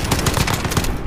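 Rapid video-game gunfire from a kill cam, a loud, steady burst of repeated shots filling the whole moment with no pauses.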